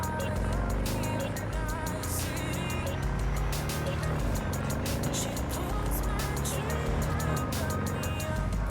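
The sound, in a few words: car driving around in Cyberpunk 2077 video game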